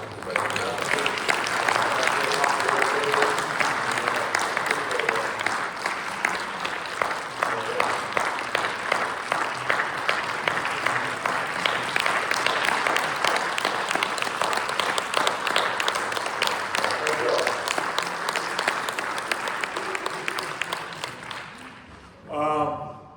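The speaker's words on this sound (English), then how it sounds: "give yourselves a round of applause" A conference audience breaks into sustained, loud applause, dense clapping holding steady for over twenty seconds before fading out, with a voice briefly heard at the very end.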